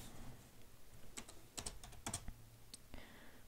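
Keyboard typing in The Sims 3 life-simulation game, a quiet run of light rapid key clicks in short bursts over a faint background.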